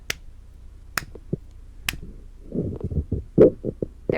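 Three sharp, close hand claps sound alone, evenly spaced about a second apart, followed by a stretch of low murmuring and soft thumps.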